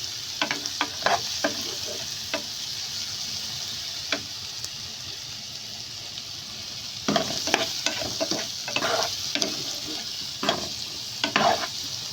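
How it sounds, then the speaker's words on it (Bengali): Capsicum, tomato and onion fry together in a pan for vegetable fried rice, giving a soft steady sizzle broken by bursts of spatula stirring and scraping, busiest toward the end. "ক্যাপসিকাম টমেটো অনিয়ন সব কিছু আমি একসঙ্গে ভেজে নিচ্ছি"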